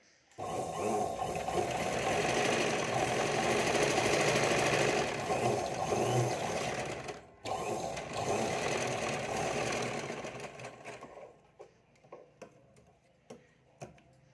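A sewing machine stitches the front of a size-28 princess cut blouse, running in a long continuous close whir before pausing, then slowing to a few isolated ticks at the end.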